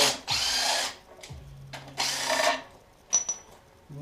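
Power tool driving bolts during a Miata twin-disc clutch install, two close bursts of whirring, each about a second long, separated by short pauses and a few small clicks.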